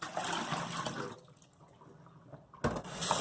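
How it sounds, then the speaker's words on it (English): Running water gushes into a sink while sorrel (hibiscus) is rinsed, a splashing rush that fades to a quiet lull midway and then surges back loudly at the end. "And then we give it a second rinse."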